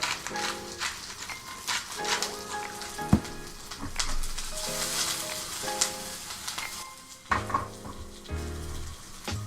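Chilies char and sizzle in a hot aluminum pan, with a steady frying hiss broken by pops, crackles and stirring clatter, close up.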